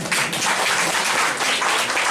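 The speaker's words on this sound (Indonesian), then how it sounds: "Berikan tepuk tangan untuk anak" A congregation at a family church service claps and applauds steadily and loudly for children who sang, for the whole stretch, with no break and no voices standing out.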